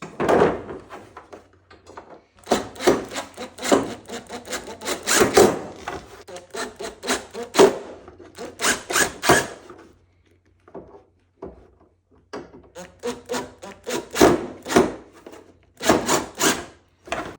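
A plastic support panel on a Lifetime vertical storage shed is fastened with screws, producing busy bursts of knocking, rubbing and driver whirring that come in clusters and pause briefly midway, close and fairly loud.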